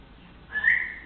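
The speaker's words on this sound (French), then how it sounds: "Quelqu'un qui répond au sifflement par un autre sifflement" A single clear whistle rises and holds for a moment over faint background noise, sounding somewhat distant, answered by another whistle.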